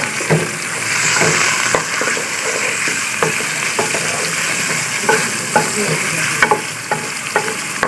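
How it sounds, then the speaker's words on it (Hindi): Chicken frying with ginger garlic paste in a pot for nihari, a loud close sizzle throughout with repeated ladle scrapes and knocks as the pieces are stirred, no speech. "चिकन डालने के साथ हमने अदरक लहसुन का पेस्ट डालना है।"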